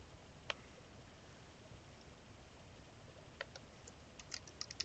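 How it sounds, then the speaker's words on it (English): Someone types a message on a computer keyboard in Outlook: a few sparse, faint keystroke clicks over a quiet background, with a small cluster of taps toward the end. "then I can type the message"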